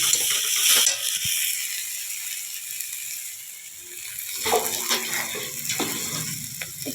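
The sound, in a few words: ginger-garlic paste and spices stirred while frying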